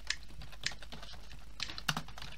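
A computer keyboard being typed on to write a chat message during a game, with a few scattered soft clicks over faint background hum.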